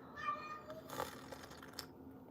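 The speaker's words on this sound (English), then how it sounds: "And there's my cat" A pet cat meows softly and faintly over quiet room noise, a brief wavering call followed by faint rustling.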